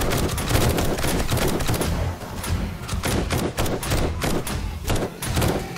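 Heavy gunfire during a co-op horde night in the zombie survival game 7 Days to Die, rapid overlapping shots and thuds forming a dense, loud, continuous barrage with no audible talking.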